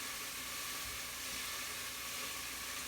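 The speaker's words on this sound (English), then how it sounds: "So we're just letting this saute." Mushrooms, sweet potato and onion sautéing in a soup pot, a steady soft sizzle and crackle running evenly throughout at moderate loudness, with no talking.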